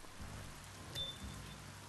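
Rain falls in the video game Biomutant as a soft, steady hiss of drops, fairly quiet and continuous, with a faint low rumble beneath and no speech.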